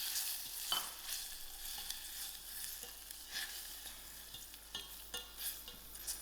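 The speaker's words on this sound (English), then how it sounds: "And to this, I'm also going to add in my curry leaf. And my mustard seed." Curry leaves and mustard seeds sizzle in hot oil with green chilies for a savoury Indian gram-flour snack. A steady close frying hiss carries scattered sharp pops and crackles, with some stirring.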